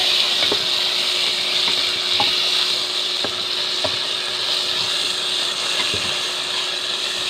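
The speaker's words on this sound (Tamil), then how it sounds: "இப்போ நம்ம தக்காளி பழம் போட போகிறோம்" Steady sizzling of tomatoes frying in a pan, with occasional scraping clicks of a spoon stirring, close and continuous without talk.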